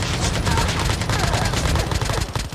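Dense, rapid AK-47 automatic fire crackles from the Call of Duty Mobile battle royale game, loud and continuous over a few seconds, with a voice faintly underneath.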